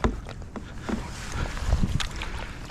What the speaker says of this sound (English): now I just continue paddling